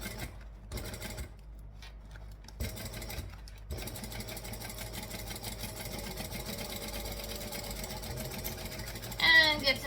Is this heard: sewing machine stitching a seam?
yes